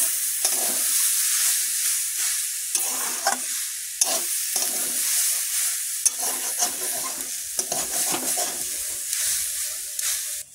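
Vegetables with fish fry and are stirred in a pan for a home-cooked tangy fish dish with garden amrul greens. A steady loud sizzle runs throughout, broken by repeated scraping stir strokes, with no talking.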